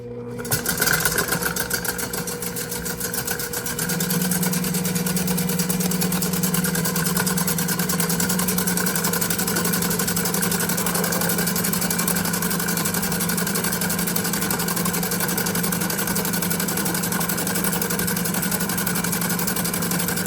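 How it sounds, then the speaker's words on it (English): An Ankarsrum stand mixer runs on low speed while it creams egg yolks with sugar for ice cream. A steady mechanical motor hum continues without break for about twenty seconds, with no talking. "We are going to start with 8 egg yolks and some sugar, and we will cream these together on low speed."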